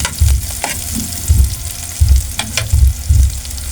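Cauliflower sautéing with chicken in a hot pan gives a steady crackling sizzle, broken by repeated low thumps and scrapes as the pieces are stirred, close and fairly loud with no voices.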